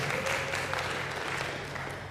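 An audience claps together at a church town hall gathering, a dense steady patter of applause heard up close that fades slightly toward the end.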